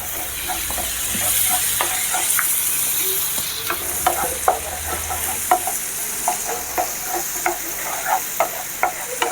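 Onions and spices fry in a pan with a continuous hiss, while a spoon stirs in regular scraping strokes, roughly one per second, close and clear with no voices over it.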